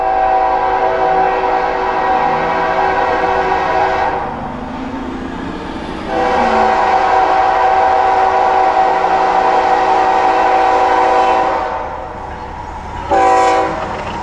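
A freight train led by BNSF locomotives rolls past with a loud, continuous rumble and wheel noise, punctuated by long sustained horn blasts and a short final honk, close and powerful.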